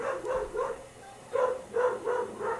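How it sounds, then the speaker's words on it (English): A dog barks repeatedly in short bursts, several yaps spaced irregularly, moderately close with no talking. "Sorry about the barking."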